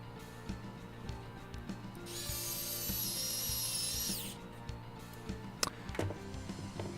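A part being screwed onto the chassis of a model Mountain truck kit, with a faint, brief whirring of a small screwdriver running steadily for about two seconds amid quiet bench handling clicks.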